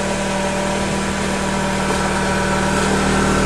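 A Dodge truck engine idles after a cold start on a farm, a loud, steady, continuous rumble with a constant drone and no change in pace, heard up close.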